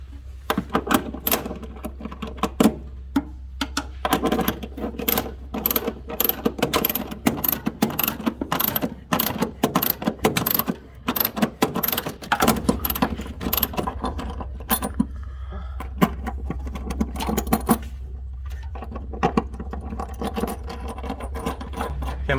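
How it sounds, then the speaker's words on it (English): A 7/8 wrench tightens the undermount of a LilliPad diving board on a Barletta L Class pontoon boat, giving a long, rapid run of close metallic ratchet clicks over a steady low hum, with a few short pauses. "this takes a 7/8 wrench to tighten it up"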